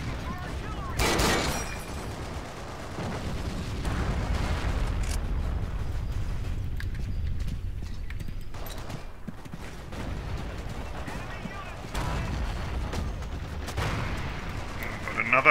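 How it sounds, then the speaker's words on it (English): An MG34 machine gun in the Forgotten Hope 2 video game, with loud bursts and the crack of gunfire mixed into a dense, continuous battlefield din, with voices now and then. "Okay, I got the MG34 gun out there."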